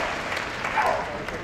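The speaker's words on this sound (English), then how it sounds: "Give him a round of applause, that was such a good try." Audience applause at the Crufts agility championship final in 2009, a short wash of steady clapping from a large crowd in an arena, fairly loud and continuous with a commentator's voice faintly mixed in.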